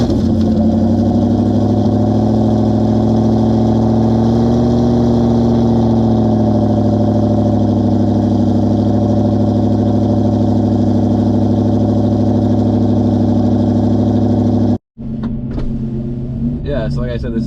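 Ford Mustang S197 V8 cold start idling, a loud steady deep rumble with a fast high idle that holds for about fifteen seconds before a brief cut, then engine noise resumes with some clatter.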